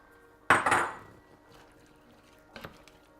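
Chickpeas and water tipped into a cooking pot for a chickpea and apricot tagine, a sharp clatter and splash against the pot followed by a brief rattle, then a second softer knock, close by with no talk.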